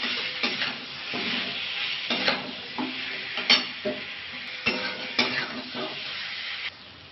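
Bhetki fish with turmeric and spices sautéing in a pan, a steady sizzle broken by repeated scraping and stirring strokes, close and fairly loud, with no talking.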